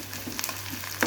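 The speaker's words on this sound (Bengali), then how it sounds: "তেলটা গরম হয়ে গেছে, আমি পেঁয়াজ কুচিটা দিয়ে দিব। পেঁয়াজ কুচিটা দিয়ে দিলাম, একটু আমি ভাজা ভাজা করে নিব।" Chopped onion hits hot oil and sizzles in a short, close burst of crackling, with a brief louder spatter near the end.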